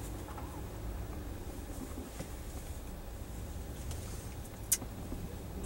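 A 2008 Lexus IS is on the road with the air conditioning running, giving a steady, muted low rumble and hum. One faint click comes near the end, and no one speaks.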